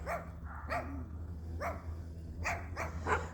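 Several dogs kept behind an electric fence at a residential property bark in short, separate bursts, about six barks spaced irregularly at moderate distance over a low background hum.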